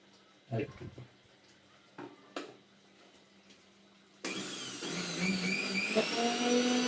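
A kitchen blender switches on abruptly after a quiet stretch with a few soft knocks, then runs as a loud, steady, close whirring drone until the end.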